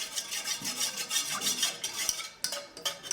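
Melted candle wax with lipstick stirred in a pot, making faint scraping and clinking of a utensil against metal in short irregular strokes, with a soft knock partway through.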